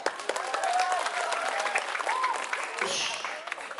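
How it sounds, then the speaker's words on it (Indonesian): Audience at a Maulid Nabi religious lecture by a preacher breaks into steady, dense applause filling the room, with voices mixed into the clapping. "Tepuk tangan dulu."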